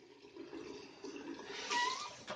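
Clean water flows from the membrane of an RO water purifier in a soft, steady, faint trickle that grows slightly toward the end.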